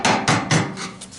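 A ball peen hammer strikes metal during fuel tank and fuel pump work on a 1992 GMC Sierra 1500 4X4, landing three loud, sharp blows in quick succession and then a couple of lighter taps.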